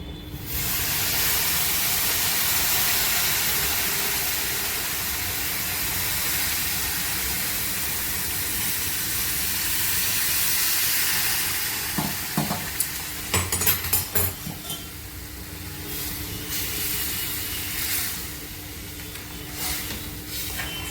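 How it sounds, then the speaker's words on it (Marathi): Jaggery mixture poured into a hot pan over low gas, with grated ginger, for the traditional Konkani dish khandvi, gives a loud, steady steaming hiss that fades slightly, then scattered stirring clatters and softer sizzling. "गॅस स्लो करून त्याच्यामध्ये मी हे गुळाचे मिश्रण टाकत आहे"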